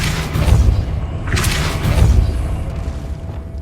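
Depulso force spell cast in Hogwarts Legacy, a deep booming blast with a whooshing burst at the start and a second thud about a second later, rumbling off into quieter noise.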